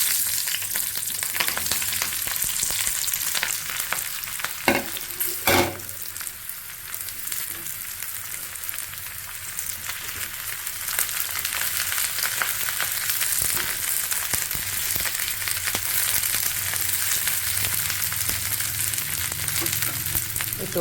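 Eggplant sizzles steadily in hot coconut oil, a continuous close frying crackle with a brief sharper burst early on and no talking over it.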